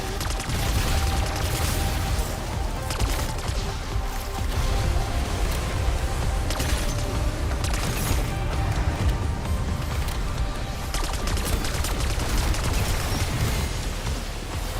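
Dense, continuous gunfire from shooting a boss in Black Ops 6 Zombies on the Terminus map, a steady loud barrage with layered impacts and effects throughout and no pauses.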